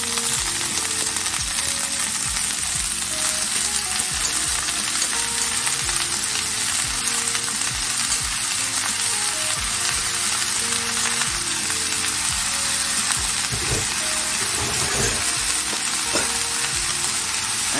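Diced bell peppers, onions and garlic fry in oil for vegan gungo rice and peas, making a loud, continuous, dense sizzle with occasional light clinks and stirring and no voices.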